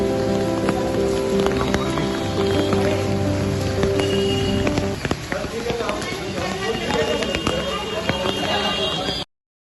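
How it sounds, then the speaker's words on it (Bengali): Heavy rain beats down in Siliguri near a temple, a loud, continuous drumming on surfaces, with people talking over it and a steady hum that drops away midway. "প্রচণ্ড বৃষ্টি প্রচণ্ড"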